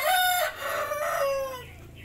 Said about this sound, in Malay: Inilah ayam Bangkok langka